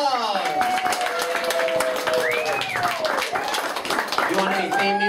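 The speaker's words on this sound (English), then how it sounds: "Give a round of applause!" Audience at a 2017 improv show clapping for a performer coming up to open, scattered hand claps spread through the room beneath overlapping talk and a voice rising over the crowd.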